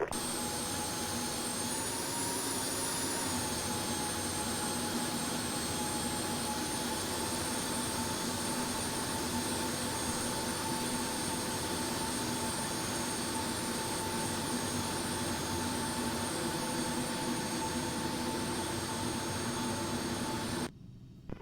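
Steady, continuous whine and roar of a Premier 1A business jet's engines at a taxiway, with a constant high tone over a broad rumble, loud and unbroken until it cuts off near the end.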